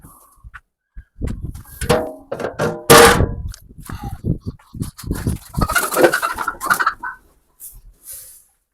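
Ducks and chickens feed on a homemade grain and bean mix, giving off repeated clucks, quacks and coos in irregular bursts, close and lively with short quiet gaps.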